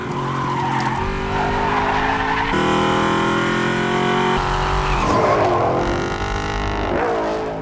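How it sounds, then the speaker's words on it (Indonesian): Cars tear along in a film car chase, tires squealing loudly in long sustained skids that shift pitch as the vehicles swerve, with roaring engines underneath and no voices. "Sempat terjadi kejar-kejaran di antara mereka berdua"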